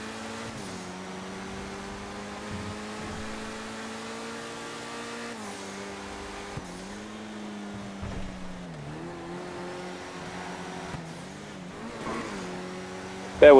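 A Lotus engine in a racing video game hums steadily throughout, its tone rising and falling with small revs and gear changes under a continuous drone, with a brief louder bump at the very end.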